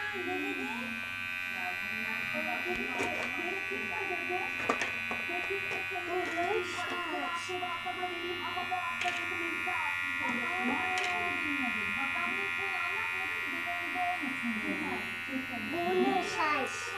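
A Powertec TR 6500 electric shaver runs with a steady, close, high-pitched hum that continues throughout while a person talks over it.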